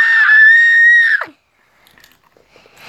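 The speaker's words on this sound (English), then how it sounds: "Scream!" A single loud, piercing human scream held steadily for about a second, cutting off abruptly into near silence with a few faint scattered noises.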